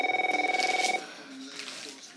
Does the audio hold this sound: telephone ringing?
yes